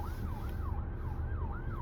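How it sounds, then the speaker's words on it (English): A passing ambulance siren wails in a steady rising and falling cycle, moderately distant over low traffic rumble, with no voices. "Cops coming somewhere. Oh, ambulance."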